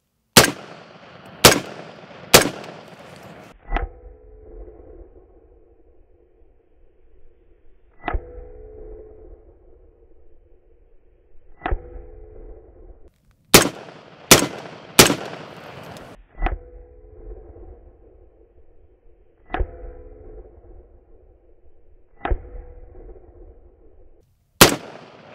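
Rifle shots firing bimetal steel-cased ammunition at body armor crack out loud and close, singly and in quick pairs and triplets, each followed by a ringing metallic hum between shots.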